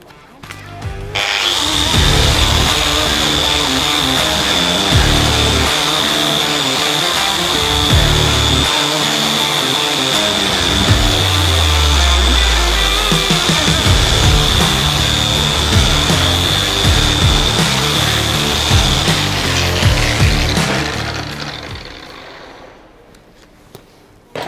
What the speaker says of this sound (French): on avait pré-réglé la meuleuse, évidemment